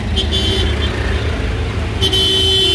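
A van rolls past in street traffic, with a steady engine and road rumble running throughout and sharp horn toots near the start and again toward the end.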